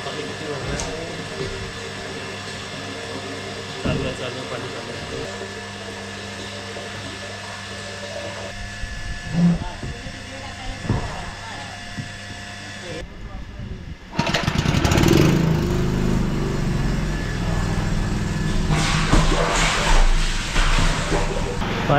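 A water tanker truck's engine drones steadily at close range, with a few knocks and clatters in the first part, then grows louder and rougher with a rush of water, as people talk nearby.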